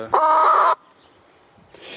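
A single loud hen cluck rings out close by, followed by near silence and a faint rustle at the end.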